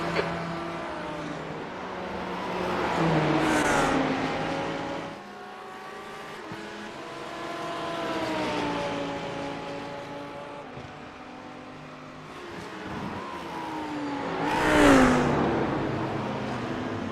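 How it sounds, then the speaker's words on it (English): A faster race car in the iRacing sim at a Creventic 12-hour race in Barcelona, its engine note rising and falling as it revs through gears, swelling louder as it closes in, with another car's engine droning underneath. "There's a faster car approaching."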